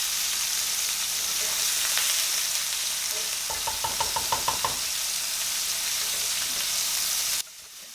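Homemade Italian meatball tomato sauce simmers in a half-covered pot with a steady bubbling hiss, while a quick run of spoon knocks and clinks against the pot marks the stirring midway through.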